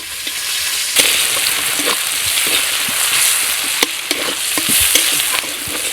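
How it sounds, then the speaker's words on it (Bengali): Chopped onions drop into hot oil already crackling with reddened cumin seeds, giving a steady bright sizzle with occasional stirring clinks and taps of a utensil, close and continuous, with no talking. "জিরেটা লাল লাল হয়ে গেছে, এবার পেঁয়াজ ফোড়ন দেব। পেঁয়াজটাই দিয়ে দিলাম।"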